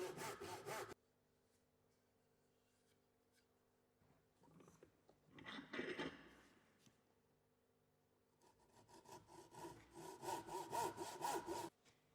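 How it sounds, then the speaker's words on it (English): A hand saw cuts down a timber tenon held vertically in a vise, with close, rhythmic rasping strokes in several bursts separated by pauses. "placing the timber vertically in the vise to follow the saw cuts down to the shoulder lines"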